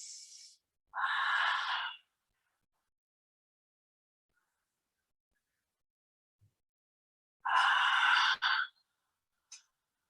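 Two long breaths pushed out through the mouth during a yoga session, each a soft airy whoosh lasting about a second, separated by quiet pauses, with a faint short puff of air near the end.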